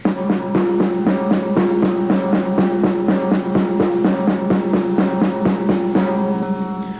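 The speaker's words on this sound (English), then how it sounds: "The next one is the double stroke roll." A fast, even snare drum roll of rapid paired strokes, played close and loud with a steady driving pulse throughout.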